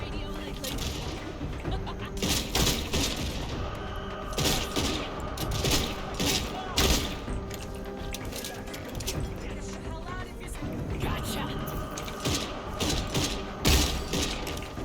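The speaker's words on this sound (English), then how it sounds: "And they're shooting at me." Enemy gunfire in the shooter game Redfall, repeated bursts of shots and mechanical clatter scattered across the stretch, fairly loud against a busy game soundscape.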